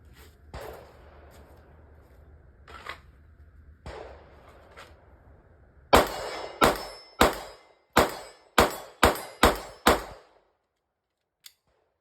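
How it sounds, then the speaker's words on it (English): Shadow Systems XR920P pistol firing at a steel target about 25 meters downrange: a few loose shots, then a rapid string of about eight sharp cracks with steel clangs, evenly spaced and loud, ending in silence. "we're just going to take some shots downrange at the steel that's at about 25 meters"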